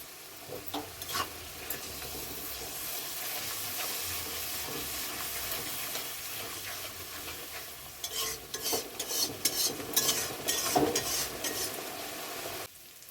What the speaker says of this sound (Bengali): ভালো করে মশলাগুলো কষিয়ে নেব।